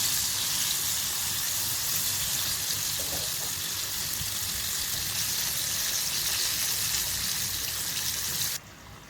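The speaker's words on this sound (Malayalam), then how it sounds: "ചിക്കൻ ഫ്രൈ ആയി വന്നിട്ടുണ്ട് കേട്ടോ" Pieces of coated chicken popcorn deep frying in hot oil give a steady, dense sizzle and crackle throughout, close and loud, ending with a brief change near the finish.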